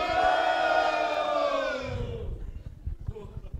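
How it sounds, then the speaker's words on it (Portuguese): A group shouts together in a loud, sustained collective cry at an event, the roar fading after a couple of seconds into scattered claps and murmuring. "Vamos fazer um barulho pro vídeo agora, galera?"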